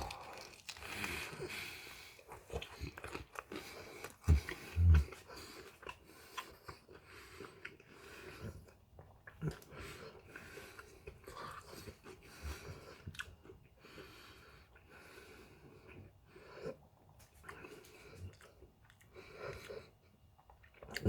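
Hard tortilla shells are bitten and chewed close to the microphone, giving crunchy bites and softer mastication in irregular bursts, with quieter pauses and a few louder cracks early on.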